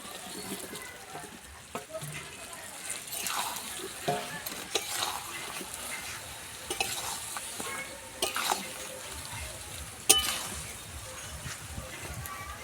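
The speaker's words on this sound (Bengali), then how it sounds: "এবার আমি আলু আর আঁচড় দিয়ে দেবো।" Potato and jackfruit stirred in a frying pan for an echor chingri curry, a soft continuous sizzle with irregular spoon scrapes and a sharp clink near the end, all fairly quiet.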